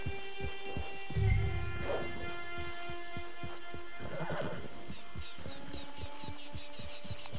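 A horse whinnies twice amid a steady clip-clop of hooves, over a faint background hum and occasional bird calls, in the video game Red Dead Online.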